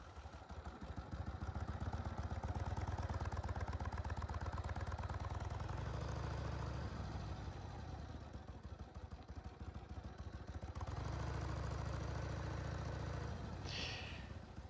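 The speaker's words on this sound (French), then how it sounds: "le bruit du vent et de la moto" A 1985 Harley-Davidson Sportster 1000 rumbles along on a ride, its engine drone steady and close with rhythmic pulsing and surges, mixed with buffeting wind noise; no talking.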